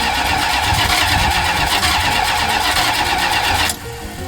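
A Plymouth Roadrunner engine with a swapped motor cranks and catches, then rumbles loudly and steadily before cutting off abruptly near the end, heard alone up close.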